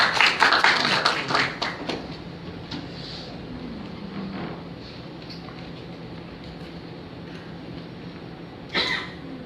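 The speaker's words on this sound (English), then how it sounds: "A big round of applause, please." A few scattered claps from a small audience at an internet governance forum on fake news, brief and fairly faint at the start, then fading into quiet room noise with a short burst of sound near the end.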